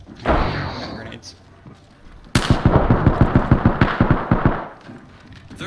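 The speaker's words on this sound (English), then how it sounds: "Grenades." Grenades go off in a squad-based battle royale video game: a loud blast, then a rapid rhythmic string of sharp detonations over several seconds, close and heavy.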